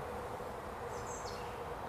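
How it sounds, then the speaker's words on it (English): A faint, steady hum of bees rises from a small colony in a hive that has come through winter, soft and continuous with no talking. "There's bees in here."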